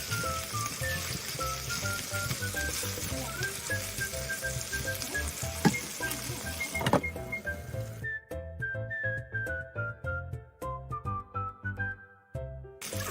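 Chicken pan-fried in plenty of oil sizzles loudly and continuously up close, crackling and popping throughout, with faint tonal music running underneath.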